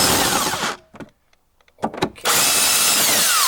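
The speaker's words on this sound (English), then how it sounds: "And now I use my electric impact driver." Electric impact driver whirring loudly on rusty bolts during a Toyota Prius battery replacement, with two long sustained bursts separated by a quiet gap holding brief clicks and a short spoken word.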